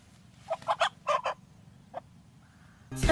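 A few short, clucking fowl calls come in quick bursts against quiet background noise, followed by a sudden louder noise at the end.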